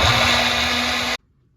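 A blender whirs loudly and steadily for about a second, then cuts off abruptly into silence.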